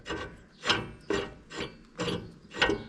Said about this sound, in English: spin that draw bolt back in